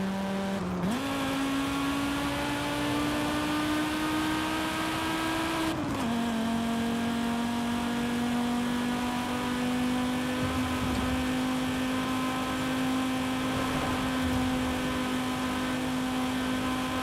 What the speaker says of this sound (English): the 5-cylinder honestly sounds like a V10 sometimes